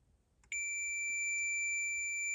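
A multimeter set to continuity gives a steady electronic beep while probing the 5 V circuit of a Land Rover TD5 engine ECU with a short. Half a second of quiet, then the tone starts and holds, close up.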